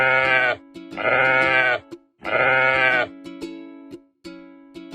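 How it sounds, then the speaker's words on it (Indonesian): Cartoon sheep in a panic bleat loudly and close, three long wavering cries followed by shorter broken bleats, with nothing else beneath them. "kenapa dengan para domba ini? Kenapa mereka terlihat panik?"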